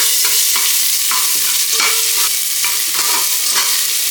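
Ginger garlic paste, made from a small piece of ginger and about eight garlic cloves, sizzles loudly in a hot pan, with a spoon scraping and stirring at a steady rhythm throughout.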